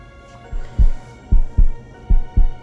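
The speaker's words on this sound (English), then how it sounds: "I feel. Her heartbeat." A heartbeat thumps loudly and close up in paired lub-dub beats, three pairs in a steady rhythm over a low hum.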